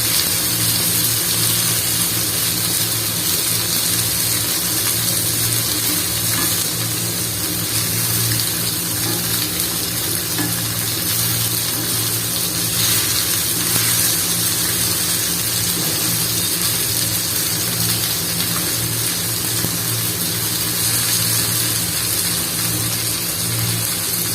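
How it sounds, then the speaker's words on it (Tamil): Ceiling fan running overhead in a home kitchen during fish frying, giving a steady, loud whirring and rushing drone that continues unchanged throughout, with no talking. "மேலே ஃபேன் ஓடுது, அதான் கர்ன்னு சவுண்டு கேட்கும்"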